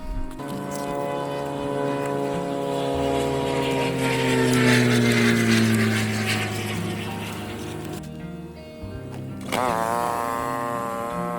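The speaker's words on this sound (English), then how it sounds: "There's a lot of small planes that fly around in the summer where I live," A small propeller plane drones steadily overhead, its engine hum swelling as it passes close, then cutting off abruptly before resuming.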